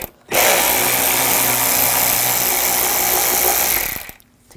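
A power tool with a T20 socket backs screws out of a 2007–2013 BMW 328i 3.0L inline-six intake manifold, giving one loud, close, continuous whirring burst of about four seconds that starts and stops abruptly.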